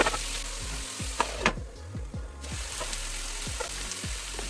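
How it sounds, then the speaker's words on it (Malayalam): Onions and ginger-garlic paste fry in a pan for a chicken curry, giving a dense close sizzle broken by repeated rhythmic clanks and scrapes of a spoon stirring, with a brief dip in the hiss midway. "ഇനി ഇതിലേക്ക് തയ്യാറാക്കി വെച്ചിരിക്കുന്ന 2 table spoon ginger garlic paste ചേർത്ത് നന്നായി ഇളക്കി കൊടുക്കുക"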